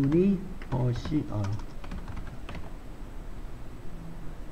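Keys on a computer keyboard tap in a short burst of light clicks at the start, half covered by a voice speaking over them, then fade to a quiet, sparse patter.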